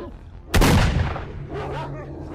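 A single loud gunshot in S.T.A.L.K.E.R. Shadow of Chernobyl, a sharp close blast followed by a fading echoing tail, with some faint game ambience after.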